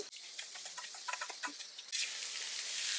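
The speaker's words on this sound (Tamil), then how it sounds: "காய் போட்டாச்சு" Bottle gourd pieces go into a hot pan and fry. Soft stirring clicks come first, then a loud, steady sizzle rises sharply and holds to the end.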